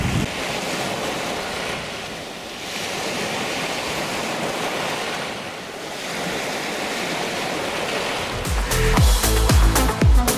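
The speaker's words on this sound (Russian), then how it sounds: "Волна идет." Waves washing on the shore of Lake Issyk-Kul, a steady broadband surge with gentle swells and wind, close and continuous, ending with some handling knocks.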